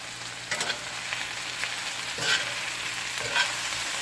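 Vegetables being stirred and fried in hot oil for a coconut curry shrimp dish, giving a steady sizzle with a few brief scraping stirs rising above it, close and fairly loud.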